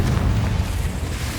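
Confringo blasting spell going off in Hogwarts Legacy, a dense, sustained low rumbling boom with steady loudness throughout, heard alone without talk.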